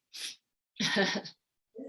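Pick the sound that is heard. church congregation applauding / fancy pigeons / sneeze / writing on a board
sneeze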